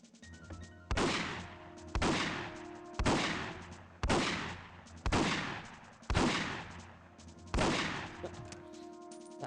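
Gunfire in a video game: seven heavy, booming shots at a slow, even pace about one second apart, each loud and close with a long decaying tail, over a faint background of game sound.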